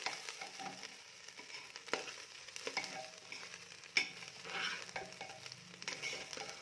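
Pulao being stirred in a pan, with quiet, irregular scrapes and soft clicks of a spoon against the pan over a faint background sizzle, close by and without voices.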